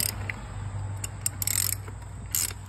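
Ratcheting socket clicks and metallic mechanism sounds while tightening the oil filter on a 2022 VW Jetta GLI 2.0T, heard as a few short bursts over a steady low hum.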